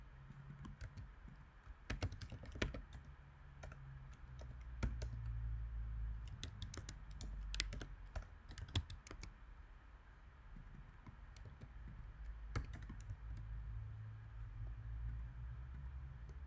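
Computer keyboard typing, as in copying and pasting text while building a React app, with irregular bursts of crisp key clicks and pauses, close and fairly quiet over a low steady hum.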